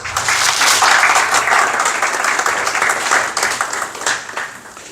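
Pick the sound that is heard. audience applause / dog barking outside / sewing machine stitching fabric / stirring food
audience applause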